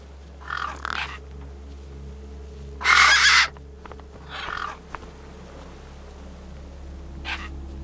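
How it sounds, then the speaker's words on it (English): Gang birds from the Beyond a Steel Sky game caw harshly over a corpse in several separate bursts, one loud and the rest fainter, set against a constant low droning hum. "The gang birds were eyeing up the corpse hungrily."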